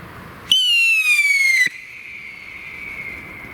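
A Klasek Scream RS6S mini firework rocket launches with a loud piercing whistle that slides slightly downward for about a second, then a fainter whistling echo lingers.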